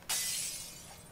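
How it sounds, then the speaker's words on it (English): Glass shatters when struck in the video game Dead Island: one sudden, loud crash that rings out and slowly fades over about a second, with no voices. "Can you just break the glass? Swing at it."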